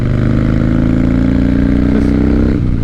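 Harley-Davidson Dyna motorcycle engine idles close by, a steady low throbbing rumble with no voices over it.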